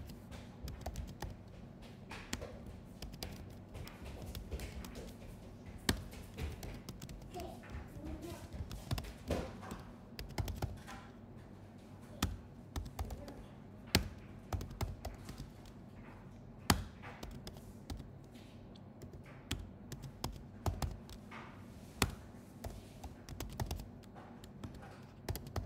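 Keys clatter on a computer keyboard as a wallet recovery phrase is typed in, irregular close taps and clicks in bursts over a steady low room hum, with no one speaking.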